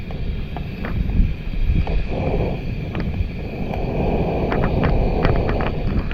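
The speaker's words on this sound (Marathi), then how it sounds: "वारा जरा जास्त आहे" Steady roar of strong wind buffeting the microphone outdoors beside a creek, with scattered faint clicks and knocks over the rushing noise.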